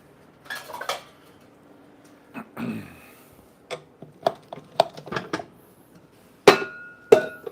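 A sifter works dry baking ingredients over a bowl in scattered taps and knocks, with light metallic clinks and short rattling bursts, close and intermittent against a quiet background.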